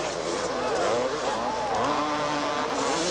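Motocross motorcycles racing in a stadium at the 1983 Rose Bowl Supercross, a dense continuous roar of engines with rising and falling revs as bikes pass, loud and steady throughout.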